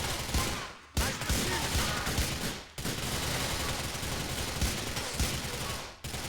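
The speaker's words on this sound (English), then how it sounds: "You guys are really firing your guns" Enemies in a GTA shootout pour out dense bursts of gunfire, rapid overlapping shots cracking close and loud, with brief gaps between volleys.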